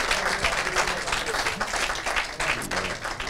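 A studio audience at a comedy show applauds steadily, a dense continuous patter of many hands at moderate volume without talk.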